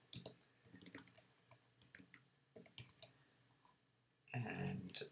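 Typing on a computer keyboard while entering HTML text: quiet, close keystroke clicks in uneven bursts, followed at the end by a louder, denser rustle of handling.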